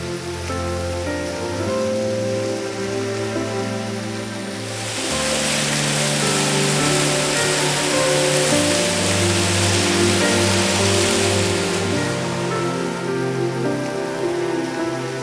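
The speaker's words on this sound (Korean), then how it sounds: "두려움도 없이 수직낙하한 폭포" A waterfall plunges vertically down a cliff on the Wibongsan mountain trail, a broad steady roar that swells midway and then fades, heard beneath background music.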